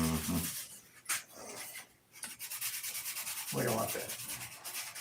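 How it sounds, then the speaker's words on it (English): Rhythmic back-and-forth sanding on a model airplane wing clamped in a vise, close and fairly quiet, with brief pauses and a short spoken remark in between. "every time that I get ready to sand this, the wing wants to drop into the vise"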